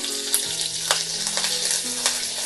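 Ginger paste frying in hot oil in a pan, a steady crackling sizzle with a few sharp utensil taps, alongside a faint steady tonal hum in the background.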